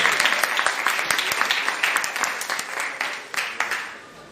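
A congregation at a church program breaks into sustained applause, a dense wash of many hands clapping that gradually fades, with faint voices underneath.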